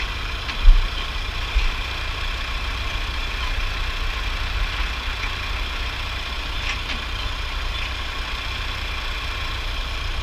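A steady, low engine idle rumbles on without pause, with a couple of faint knocks early on and no voices.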